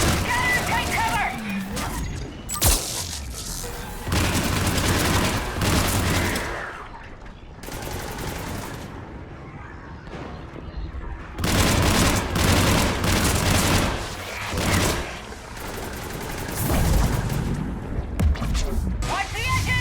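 Sustained gunfire and explosive booms from fire support in the Mass Effect 3 battle on Thessia, loud bursts of shooting rising and falling across the scene with speech mixed in.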